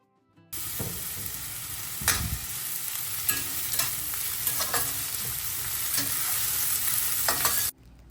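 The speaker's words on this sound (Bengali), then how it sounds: "প্রথমে কিছুটা রসুন ভেজে নিয়েছি, আর এখন কিছুটা পেঁয়াজ আর সঙ্গে কাঁচা লঙ্কা দিয়ে দেবো" Onion and green chili hit a pan of garlic frying for a spinach ghonto, a sudden burst of sizzling that holds steady and close, with a few stirring scrapes before it cuts off, no speech.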